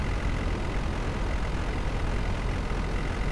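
A mile-wide tornado in the Roblox game Twisted, a constant dense rushing roar of wind that stays uniformly loud and close throughout, with no voices.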